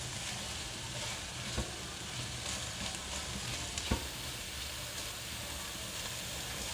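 Okra frying in a pan for spiced achari bhindi, a steady dense sizzle running throughout with a few faint stirring knocks, close and fairly loud, no voices.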